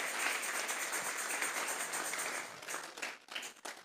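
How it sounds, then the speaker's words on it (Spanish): Church congregation applauding as an offering of praise, a dense wash of many hands clapping at moderate distance, thinning into a few scattered claps at the end. "Regálele ofrenda de palmas al Dios de la gloria."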